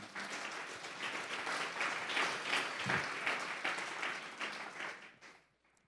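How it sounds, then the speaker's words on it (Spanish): A church congregation gives a strong round of applause to the Lord, a full, sustained wash of clapping that swells and then fades out near the end, with no talk over it. "Dale un fuerte aplauso pues al Señor."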